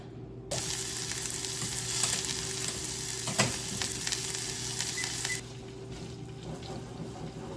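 Rice frittatas frying in butter in a pan, a steady loud sizzle and crackle that runs unbroken for several seconds, close up and alone, then drops away abruptly to a quieter hiss.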